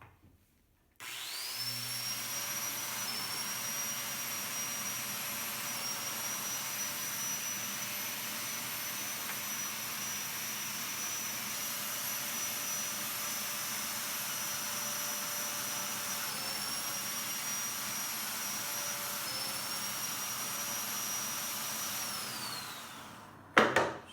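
A Festool Domino joiner whines steadily for about twenty seconds as it plunge-cuts mortises into wood, a close, even motor hum with a faint high tone and a brief clunk at the end.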